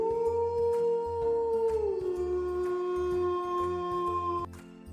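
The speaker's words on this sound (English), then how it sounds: "The wolf's sound is howl." A wolf howls in a long, sustained tonal wail that slowly glides downward, holding steady for several seconds over a repeating low rumbling backdrop before cutting off near the end.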